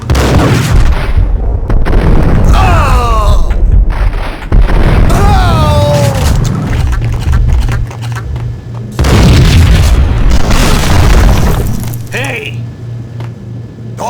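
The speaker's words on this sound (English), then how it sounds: "I thought it was a bomb for sure" In the Max Payne video game, loud booming blasts like explosions and heavy gunfire come in several bursts with rumbling tails, while voices talk and shout between them.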